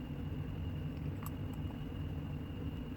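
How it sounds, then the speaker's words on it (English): A room heater runs steadily in the background, giving off a constant low rumble and hiss with a faint tonal whine. It is quiet and unchanging throughout, with no speech. "I'm really sorry for my heater noise in the background"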